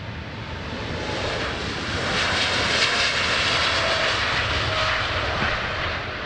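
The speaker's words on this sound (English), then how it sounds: "Very late takeoff, if you ask me." An airplane takes off at Amsterdam Schiphol Airport, its engines giving a loud, steady roar that swells slightly midway and holds without a break.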